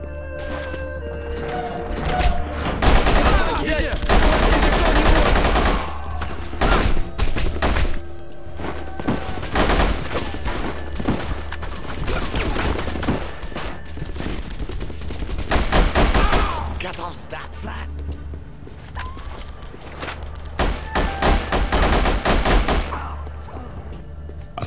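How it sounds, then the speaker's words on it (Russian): Sustained bursts of machine gun fire in The Punisher video game, loud and close, rattling in long volleys with crashes and shouted voices mixed in throughout. "Оставайся здесь, пока стрельба не прекратится."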